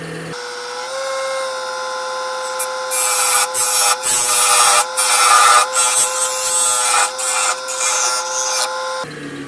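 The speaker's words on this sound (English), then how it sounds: "Now I'm going to part it from the lathe here. I'll turn it back up again here." A wood lathe spinning a small turned wooden Christmas tree sanded to 400 grit, with a steady motor hum and a loud scraping, rasping cut as the piece is parted off, then the motor keeps running.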